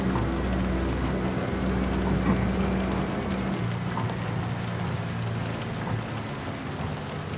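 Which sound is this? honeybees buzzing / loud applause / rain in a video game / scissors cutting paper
rain in a video game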